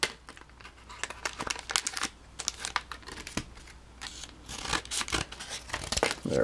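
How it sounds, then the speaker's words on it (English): Scissors snip through crinkly Pokemon Steam Siege booster pack wrappers, with rapid, close cuts and crackling plastic rustles continuing in uneven bursts throughout, with no voices. "I'm going to cut all these open just so I can go through here quickly"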